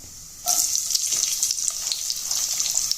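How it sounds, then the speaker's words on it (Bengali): Chopped onion hits hot oil in a wok and erupts into a loud, bright, steady sizzle that carries on without pause, the crackling frying replacing a quieter kitchen background after a brief moment. "এখন আমি দিয়ে দেবো এখানে পেঁয়াজ কুচি"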